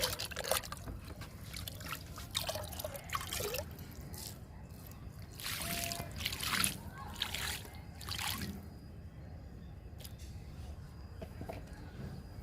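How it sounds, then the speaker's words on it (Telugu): Liquid kitchen-waste fertiliser is poured onto potted garden plants, giving soft trickling and splashing bursts that come and go over a quiet background. "ఇప్పుడు లిక్విడ్ ఇద్దాము, కిచెన్ వేస్ట్ లిక్విడ్."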